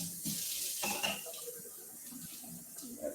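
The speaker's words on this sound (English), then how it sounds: "I'm going to rinse off my rolling pin here." Tap water runs steadily into a sink as a rolling pin is rinsed under it, giving a continuous hiss and splash with small knocks and shifts in the flow.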